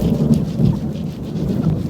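A thunderstorm rolls in over an abandoned homestead, with a steady, loud roar of rain and deep rumbling thunder filling the air, and no voices.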